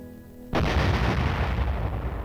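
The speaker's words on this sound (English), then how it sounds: "A loud boom brings down the curtain on a bomb dropped many years before." A defused World War II bomb is detonated at a remote site outside a city, and a sudden loud blast cuts in after half a second of quiet and rolls on as a heavy, sustained rumble.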